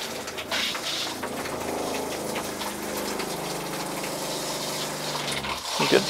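Shower in a Keystone Outback 230RS camper trailer spraying during winterizing, with a steady close rush of water and a pump humming beneath it throughout.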